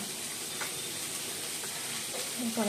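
Cauliflower and potatoes sizzle steadily in hot spiced oil, a continuous close frying hiss with faint stirring scrapes and a few brief background sounds near the end.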